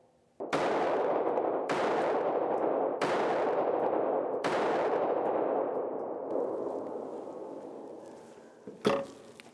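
Four loud handgun shots ring out one after another about a second apart, each with a long echoing decay, followed by a brief clank near the end with no voices.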